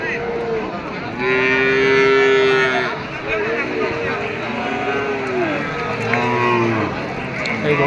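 Several cattle low repeatedly at a busy bull market, with a long loud moo followed by further shorter calls, some overlapping, above constant crowd chatter and voices.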